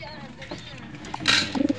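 Pigeons coo briefly and softly at close range amid faint background sound, with a quick burst of fluttering or rustling near the end.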